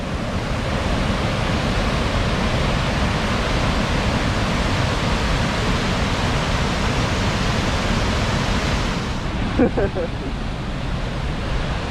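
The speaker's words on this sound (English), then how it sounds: "So this is the upper falls." Loud, continuous rush of the upper falls of Laurel Falls in DeSoto State Park, Alabama, running high, dominates as a dense unbroken roar; near the end it dips briefly with a faint thump or two.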